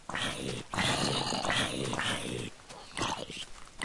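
A tamed wolf fights mobs in Minecraft, with game growls, scuffles and pig sounds in quick bursts under an excited voice talking throughout.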